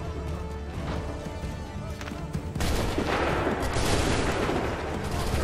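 Musket volley fire in Assassin's Creed 3 bursts out loud and sustained after a quieter lead-in, a dense crackle of many shots at once that continues to the end.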